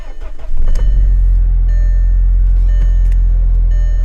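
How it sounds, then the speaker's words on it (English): A 2001 Nissan Pathfinder engine cranks briefly and catches, then settles into a strong, steady, loud idle rumble close by. "if you hear it, the car starts up really strong"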